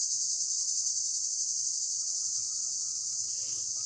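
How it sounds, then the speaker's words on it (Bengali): A cricket trills close by in a thin, unbroken high-pitched drone that holds steady throughout the quiet background. "পাশে কি একটা যেন পোকা শুধু ঝিঝি করে ডাকে"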